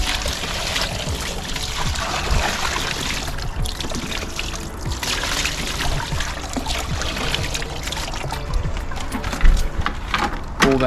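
Pond filter parts from an Oase Biosmart 36000 are rinsed with a bucket of pond water, giving continuous splashing, pouring and trickling close by, with brief louder sloshes and no talk.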